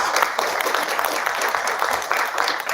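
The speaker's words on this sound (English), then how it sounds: "Let's once again, please give Rachel a round of applause." A keynote audience gives Rachel Kowert a round of applause after her talk on moderating the metaverse, a thick, even wash of clapping from many hands sustained throughout.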